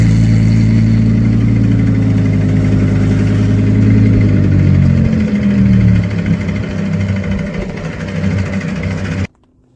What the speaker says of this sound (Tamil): அப்புறம் அந்த லேம்பர்கினி ஸ்டார்ட் பண்ணாங்க.